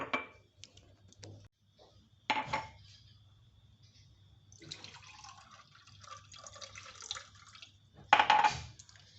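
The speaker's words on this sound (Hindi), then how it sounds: "ये आधा कप मैं पानी इसमें डाल रही हूँ" Half a cup of water poured onto a cup of sugar in a pan on a lit stove for homemade liquid glucose: short splashing pours separated by quiet drips and light clinks of utensils.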